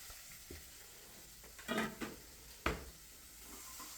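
Curry leaves, green chillies and garlic sauté in a hot pan, giving a few short sizzling crackles and stirring scrapes over a quiet background, with no talking.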